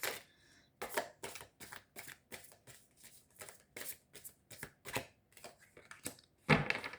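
Tarot cards shuffled by hand, a rapid series of crisp riffling bursts and soft slaps, close and quiet, with a louder shuffle near the end.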